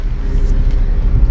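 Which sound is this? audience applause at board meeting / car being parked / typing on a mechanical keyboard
car being parked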